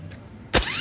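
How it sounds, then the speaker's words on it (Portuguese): A GM Caravan starter motor on a bench test whirs up abruptly after a quiet moment, a loud close spinning whine that continues to the end. "Motor de partida pronto. Vamos fazer o teste aqui agora."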